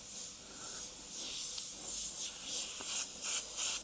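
Soft, breathy hiss of an Ammo Atom airbrush spraying paint onto paper in short uneven bursts, quiet and close, with no voices.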